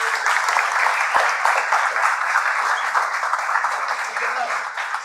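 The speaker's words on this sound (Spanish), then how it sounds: "quiero que le den un fuerte aplauso al invitado de esta noche" A television studio audience applauds loudly and continuously for a guest, with some cheering and voices mixed in.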